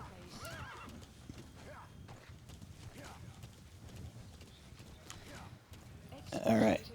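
A horse in the video game Metal Gear Solid V gallops with steady clip-clopping hooves under wind noise, then lets out a loud neigh near the end, with someone talking over it.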